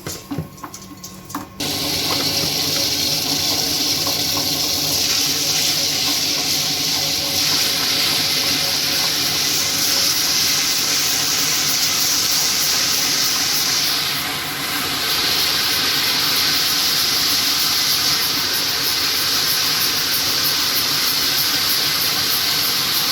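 A Butterfly Flora 2-litre wet grinder grinds soaked rice, its steady loud motor and swishing wet churn continuing unbroken after a brief start, with no talk over it.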